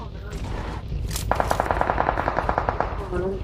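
Rapid automatic gunfire in a tactical shooter game, a steady burst of about fifteen evenly spaced shots lasting over a second, moderately close, over a low ambient game background.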